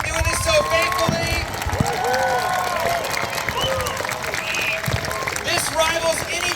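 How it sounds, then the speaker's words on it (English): Crowd applause and cheering at a July 4th fireworks show in Maltby near Seattle, dense clapping throughout with excited voices and shouts layered over it, fairly loud and close. "let's just give one more round of applause for Michael, who's been doing this so faithf"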